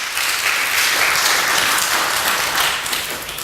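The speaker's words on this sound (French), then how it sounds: "Acclamons le roi des rois" A church congregation applauding during a sermon, a dense, loud, continuous wash of clapping hands that holds steady throughout and eases off slightly at the end.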